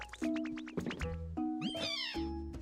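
Several short cartoonish cat meows from the video game Pokemon Pokopia, a quick run of bright mewing calls with synthesized game tones between them, close and clear with no talking.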